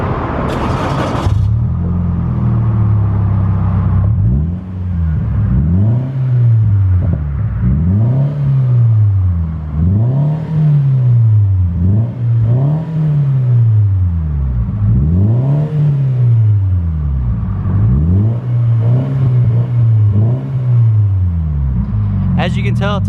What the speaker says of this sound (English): here's a startup and a rev on the Invidia N1 exhaust